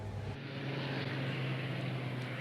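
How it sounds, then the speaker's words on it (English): An Airbus A380 airliner flies over Melbourne in the rain, its engines giving a steady, loud, broad roar with a low hum that keeps going without a break. "This is an A380, which we've been told,"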